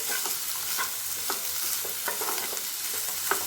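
Sliced onion and capsicum fry lightly in a pan, a soft continuous sizzle punctuated by a series of brief scraping stirs and light taps of the utensil, moderately close and quiet, with no voices.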